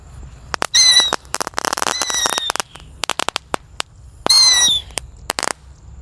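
Dino egg fireworks and firecrackers going off outdoors, a rapid series of loud sharp cracks and whistling bursts in clusters with brief gaps between volleys.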